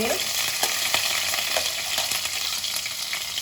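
Garlic and ginger sizzle in hot oil with nigella seeds, a loud, close, continuous frying hiss with small crackles and light stirring clicks scattered through it, no voices.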